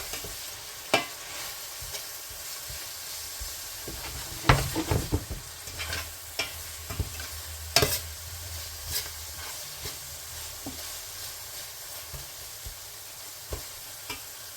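Tomatoes and masala sauté in a pan for a Bhindi Masala recipe, giving a steady hissing sizzle punctuated by scattered sharp clinks and scrapes of a spoon stirring, close and unaccompanied by speech.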